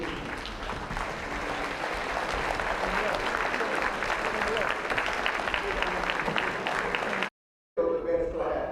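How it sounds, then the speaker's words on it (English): A hall audience at a high school 50th class reunion gives a sustained round of applause, steady dense clapping lasting several seconds before a brief cut to silence. "stand once again and receive a deserved round of applause"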